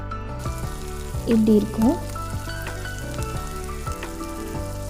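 Onions frying slowly in a pan for chicken gravy, with a soft, steady sizzle. Someone talks over it throughout.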